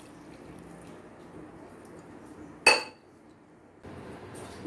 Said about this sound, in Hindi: इसमें भी 1 कटोरी पानी डाल देंगे।